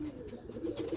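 Homing pigeons cooing close by, soft low throaty murmurs in a quick, uneven run over about a second, with no voices.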